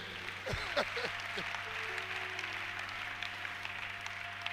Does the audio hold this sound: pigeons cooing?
no